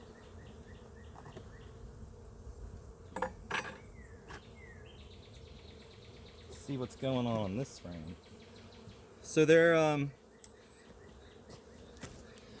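Honeybees hum around a hive frame, a low steady drone under a man's occasional speech, with a few louder buzzing bursts as bees fly close past.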